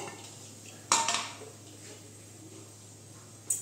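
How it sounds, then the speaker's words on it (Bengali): A pressure cooker lid is lifted off during the making of Bengali papaya dal, giving a sharp metallic clatter followed by a short scrape, then a second brief clink near the end, close and fairly quiet. "এই যে প্রেশার কুকারের ঢাকনাটা আমি এখন খুলে দিচ্ছি"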